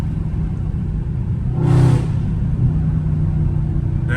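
Catless Dodge Challenger Scat Pack V8 revving loudly in a short burst near the middle, the exhaust swelling then dropping back into a steady deep rumble as it downshifts.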